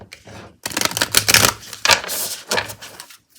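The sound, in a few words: riffle shuffling a deck of Affirmators cards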